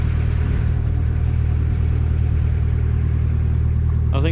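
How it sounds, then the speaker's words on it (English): Steady low engine rumble from a boat, continuous and close, a constant droning hum with no break, while a brief higher sound rises near the end. "the rumble of the engine"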